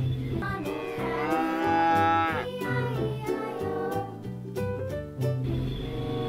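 A toy cow gives a loud mooing call over busy music, with the lowing swelling near the middle of the stretch.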